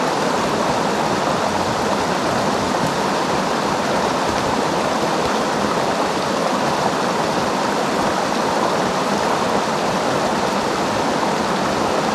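Fast-flowing water in a winter trout stream rushes in a loud, steady, unbroken wash that fills the whole clip, close to the microphone, with no voices over it.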